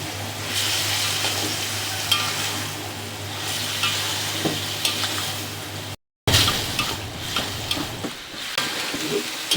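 Cauliflower pieces being stirred into fried potatoes and spices in a pan, with a steady close sizzle and scraping stir strokes throughout, briefly cut by a short gap.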